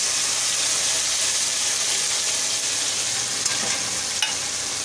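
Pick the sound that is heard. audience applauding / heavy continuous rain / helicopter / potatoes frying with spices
potatoes frying with spices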